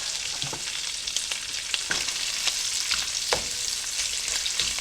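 Sausage fries in a crockpot with a continuous close hiss and crackle, broken by scattered pops and light stirring clicks. The sound stays even and fairly loud throughout, with no speech.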